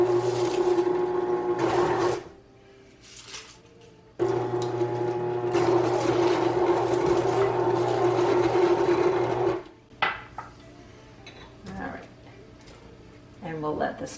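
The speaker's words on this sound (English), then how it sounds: "we're just going to turn the mixer on and sprinkle them in as they sort of gradually mix in" Electric mixer beating cookie dough as cornflakes are sprinkled in, a steady loud motor whir running in two long stretches with a brief pause between, then stopping near the end.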